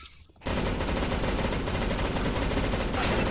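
After a brief quiet moment, loud rapid automatic gunfire sprays continuously in a Counter-Strike: Global Offensive match, dense and sustained to the end.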